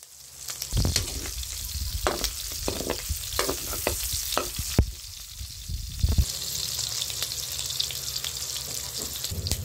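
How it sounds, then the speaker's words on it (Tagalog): Meat frying in its own rendered fat in a pan, a loud continuous crackling sizzle with sharp spattering pops and scraping stirs, close and without talk. "pinakukulan ko muna yung karne at pinapalambot at pinagmamantika ko sa sarili ng mantika at doon tayo magigisa"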